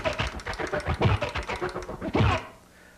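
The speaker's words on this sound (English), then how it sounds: "It's like a record going frontwards and a record going backwards at the same time" Rapid choppy transformer scratching of a record on a turntable, stuttering back and forth in quick on-off bursts, close and fairly loud.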